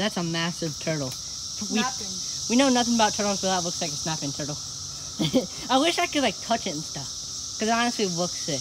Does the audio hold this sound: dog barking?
no